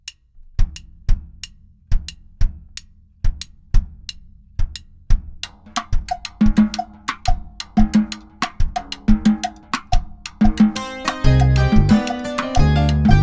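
A drum kit plays a salsa verse groove with all four limbs, bass drum, cowbell and cymbals. Steady, evenly spaced hits thicken into a dense, loud pattern toward the end, with no voices.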